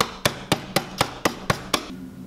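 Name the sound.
hammering crystals inside a bag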